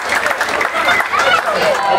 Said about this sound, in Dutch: hou hem nog een groot applaus aan Sino